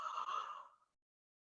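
A single breathy, drawn-out yawn-like exhale that fades away, followed by a brief sound starting at the very end.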